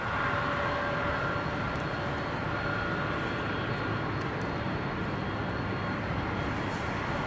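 A jet aircraft landing on runway 27R at London Heathrow gives a continuous loud roar with a steady broadband rumble and faint whine, unbroken and without talk.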